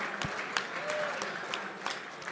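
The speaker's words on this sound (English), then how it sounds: "Let's have a round of applause for them, please." Steady applause from an audience in a hall at a mergers-and-acquisitions awards gala, an even wash of clapping at moderate distance, fairly soft, with no clear talk over it.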